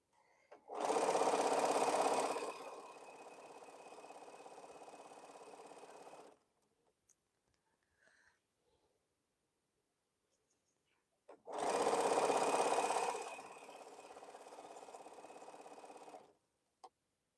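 A quilting sewing machine runs in two separate bursts, each a loud fast start settling into a steady whir for several seconds, with near silence in between.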